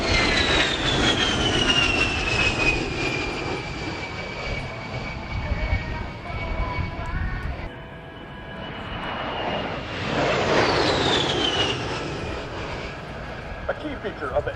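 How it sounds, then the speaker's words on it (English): An A-10 military jet makes a pass at an air show in Memphis. Its loud engine roar sweeps past, fades, then swells again with a falling whine, while an announcer talks over a PA. "The A-10 was designed to absorb a great deal of punishment and still keep flying."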